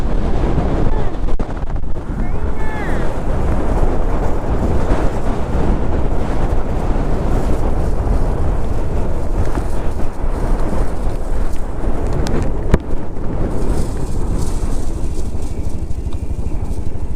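Strong wind buffets the microphone on a highland hibiscus camp outing, a loud continuous roar with rumbling gusts throughout, no voices audible.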